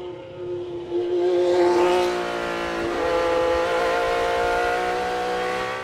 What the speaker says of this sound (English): It has the proverbial Ferrari 12-cylinder whine. Sounds like you're ripping sheets.